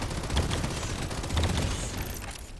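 Excava grenade launcher in the shooter game The First Descendant, hip-fired: steady rapid gunfire with a couple of heavier thumping bursts, moderately loud and continuous, no talking.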